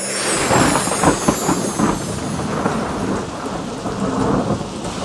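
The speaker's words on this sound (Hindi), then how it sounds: "आजकल बहुत ही जोरदार बारिश हो रही है" Heavy rain pours down steadily while thunder rumbles and cracks loudly through it, with no voices.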